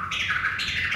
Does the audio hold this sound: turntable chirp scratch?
yes